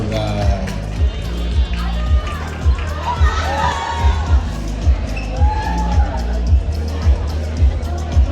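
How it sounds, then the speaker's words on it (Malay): An audience at a film premiere red carpet applauds and cheers loudly, a dense crowd roar with shouting under an announcer's voice and a thumping beat of background music. "Tepuk kuat-kuat untuk Ara Johari. Jangan berhenti tepuk."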